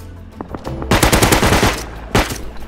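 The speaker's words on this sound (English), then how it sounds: "Oh, that's a shotgun, dude." Gunfire in the video game Rust, a shotgun shot: one loud blast near the start followed by a sustained burst of heavy firing, then a second sharp blast toward the end, with no talk.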